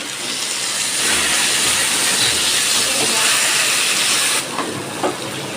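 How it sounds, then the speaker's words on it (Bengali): A steady broadband hiss as fried chicken is added to a hot pan of cooked-down spice paste, loud and close, holding constant for several seconds with a slight change near the end. "এবার আমি ভাজা চিকেনটা দিয়ে দিচ্ছি।"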